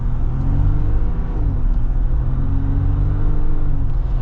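2023 Jeep Wrangler Rubicon with the EcoDiesel engine accelerating from a stop, a deep, steady diesel rumble with gently rising tone heard from inside the cabin, loud and continuous with no talking.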